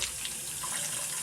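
Water runs steadily from a newly installed faucet into a DIY epoxy kitchen sink, a continuous close hiss with no talking.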